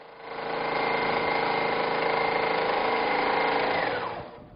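Quilting machine running on a Q-Zone hoop frame, a steady, continuous mechanical whir and stitching hum that ramps up at the start and holds at an even, close level before cutting off abruptly near the end.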